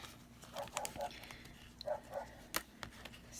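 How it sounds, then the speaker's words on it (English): A dog barks indoors in short, faint bursts, a few separate woofs spread across a few seconds against quiet room noise. "what's he barking at?"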